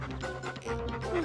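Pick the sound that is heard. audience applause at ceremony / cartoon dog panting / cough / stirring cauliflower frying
cartoon dog panting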